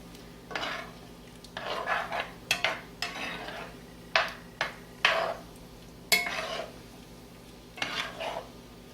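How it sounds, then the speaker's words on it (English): A spoon stirs leftover turkey enchilada casserole in a pan, making repeated soft scraping and squelching strokes in uneven bursts separated by brief pauses, close and fairly quiet. "Let's get a spoon and get this stirred in."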